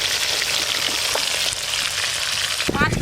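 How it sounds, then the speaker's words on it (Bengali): Pieces of rupchand pomfret fry in hot oil with a loud, continuous sizzle and crackle, close and busy throughout, with a brief spattering burst near the end. "এই মাছ তো একটু বেশি করে ভালো করে আঁচ খাই ভাজতে হবে"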